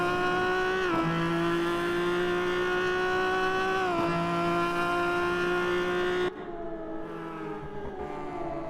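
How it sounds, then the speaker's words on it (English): Race cars battle wheel to wheel on a circuit, their engines screaming loud and steady with brief dips at gear changes, and no voices. "Fauvargue and Mole, wheel to wheel"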